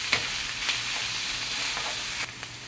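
Chicken nuggets and tomato sizzle in a hot pan while being stirred, a steady crackling fry broken by soft scrapes and clinks of the spoon.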